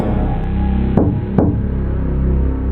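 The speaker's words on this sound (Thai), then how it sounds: "เสียงเคาะดังขึ้นอีกครั้งที่ประตูของห้องต้า" Knocking on a hotel-style dormitory room door at night in a Thai horror audio drama, two sharp knocks close together over a steady low hum of background music.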